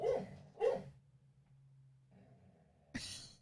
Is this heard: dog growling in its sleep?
yes